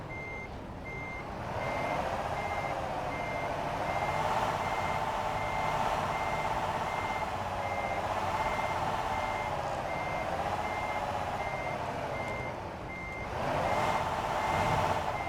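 Steady repeating reverse-alarm beeps from a truck backing up in American Truck Simulator, loud and continuous over a low engine drone, with no talking.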